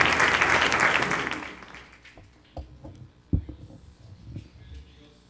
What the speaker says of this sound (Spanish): Te invito a que le demos un fuerte aplauso